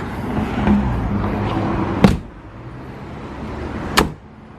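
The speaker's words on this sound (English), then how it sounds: "Shut the doors." Two solid door slams from a 1967 Alfa Romeo Giulia Super, each a sharp single thunk about two seconds apart, heard close over a steady low background hum.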